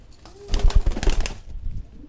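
A homing pigeon beats its wings in a brief burst of flapping flight, a quick run of close, fluttering wingbeats that rises and then fades within about a second, with no talking.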